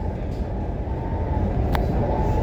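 A train bound for Barcelona airport rumbles along in a continuous low roar from inside the carriage, steady and loud, with a brief faint squeal near the end.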